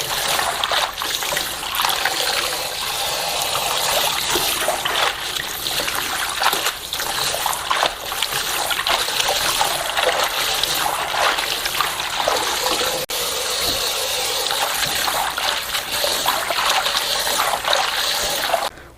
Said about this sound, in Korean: 어느 정도 절여졌으니까 씻어 볼게요.